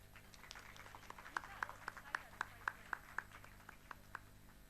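A short run of steady handclaps from a small group at an eye institute ceremony, about a dozen sharp claps in even rhythm over a low background murmur.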